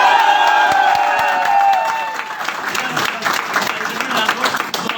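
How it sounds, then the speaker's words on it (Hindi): A crowd at a seminar event shouts, whoops and cheers loudly, then the noise settles into scattered clapping and cheering. "एक बार चिल्लाकर जोर से और हल्ला करके दिखा सकते हैं?"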